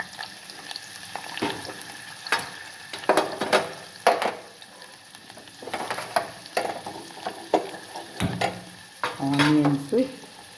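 Onions frying in pure cold-pressed gingelly oil for a broad bean curry, a soft sizzle broken by repeated clattering stirs and scrapes of a spoon in the pan, with some water-like splashing.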